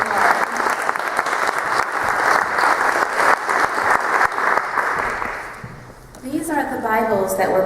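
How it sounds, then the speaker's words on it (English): An audience in a classroom or church gathering bursts into steady, full applause that carries for several seconds, then tapers off as a voice begins speaking near the end. "Can we give them a round of applause for their input and their studies this year?"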